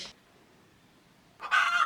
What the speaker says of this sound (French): Mes 2 petites poules.